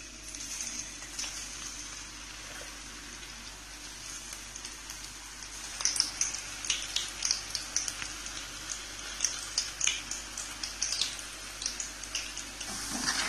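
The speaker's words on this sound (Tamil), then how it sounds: "இப்போ இதை நம்ம வந்து ஆயில் நான் வந்து ஆல்ரெடி ஹீட் பண்ணி வச்சிருக்கேன், அதில் போட்டு டீப் ஃப்ரை பண்ணி எடுத்துடலாம்" Baby corn deep frying in hot oil gives a continuous sizzle, with crackling bursts that grow busier and louder partway through and keep popping to the end.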